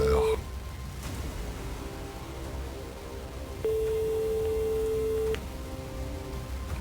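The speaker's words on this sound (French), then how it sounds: "Deuxième sonnerie. Troisième sonnerie." A telephone ring tone sounds during a live Christmas prize-draw call on Tahitian broadcast, with a short ring at the start and a longer steady ring a few seconds later, over quiet background noise.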